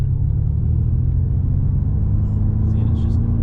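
Ford Mustang Mach-E cruising at highway speed, a steady low road rumble and tire drone filling the cabin without a break, with faint voices in the background.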